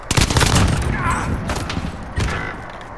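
Loud bursts of gunfire in a video game crack out in a cluster at the start, then a few more scattered shots follow, with a voice talking faintly underneath.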